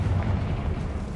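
A deep, rumbling blast from the Confringo fire spell in Hogwarts Legacy, a single low boom that fades out over about a second.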